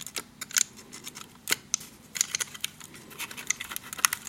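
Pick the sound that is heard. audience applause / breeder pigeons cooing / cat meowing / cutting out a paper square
cutting out a paper square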